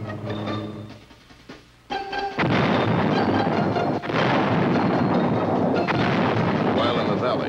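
Vietnam War artillery fire at the Battle of Dak To in 1968, supporting the 4th Infantry Division: a quieter opening breaks into loud, sustained booming and rumbling blasts that continue without pause.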